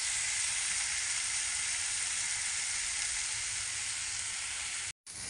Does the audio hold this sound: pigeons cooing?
no